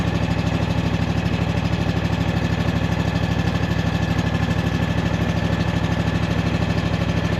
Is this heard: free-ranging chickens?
no